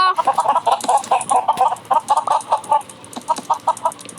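Chickens cluck in rapid, choppy bursts in the video game Mini World, a busy stream of short bird calls with slight gaps, sounding like synthesized game audio.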